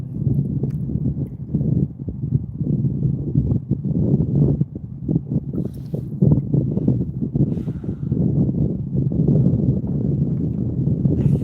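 Wind buffets the microphone while perch fishing from a kayak in cold weather, a continuous low rumbling gust noise with fluttering bursts that persists for the whole stretch without speech.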